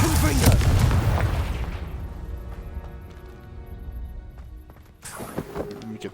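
A Confringo fire spell in Hogwarts Legacy bursts with a loud booming blast that decays into a rumbling tail, then a second impact follows near the end; a voice speaks around the blast.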